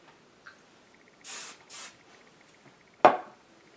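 Aerosol hairspray misted over bangs in two quick close bursts, followed by a soft tap and a sharp clack as the can is set down.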